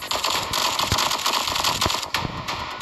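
Machine gun cover fire in the mobile shooter Cover Fire rattles in short bursts of sharp cracks, irregular and close, over a dense, noisy game backdrop with no voices.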